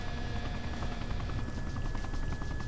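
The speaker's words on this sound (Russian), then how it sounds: "Вертолет у нас, как я понял, Apache." An Apache helicopter in ArmA 2 flying low over trees, its loud continuous rotor and turbine roar with a fast rhythmic blade chop filling the whole stretch, no talk over it.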